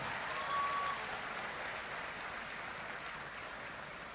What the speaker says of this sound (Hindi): एक बार जोरदार तालियां सब अपनी तरफ से बजा दें